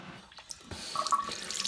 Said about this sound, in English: if I turn it more to the left, I think more likely than not the warm water will come out